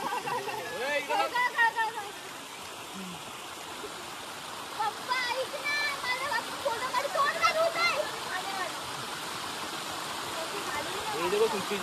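A waterfall on the Ganesh Ghat trek to Bhimashankar rushes steadily nearby, a constant broad roar of falling water beneath people talking close by.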